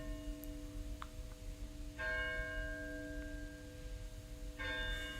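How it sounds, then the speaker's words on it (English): Church bells ring out at eight o'clock, their sustained tones layered and steady with a fresh swell of strikes partway through and again near the end, resonant and moderately distant with no voices. "let's wait and listen for the bells"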